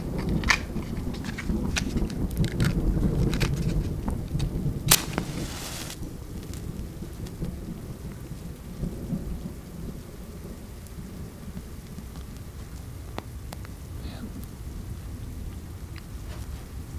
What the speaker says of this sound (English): Tell if the storm is dying down or if we're just in the middle of it, in the middle of the eye.